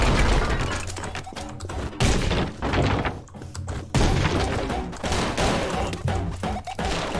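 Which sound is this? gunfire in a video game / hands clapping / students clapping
gunfire in a video game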